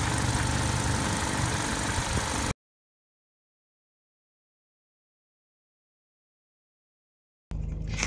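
A warmed-up 1997 Ford Escort engine idles with a steady low hum for a couple of seconds, then the sound cuts to silence before the idle briefly returns at the end.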